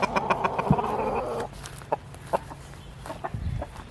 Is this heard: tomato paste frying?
no